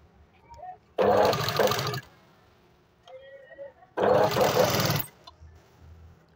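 Sewing machine stitching a small pleat on a katori blouse, running in two loud bursts of about one second each, separated by quiet handling sounds, with no talk.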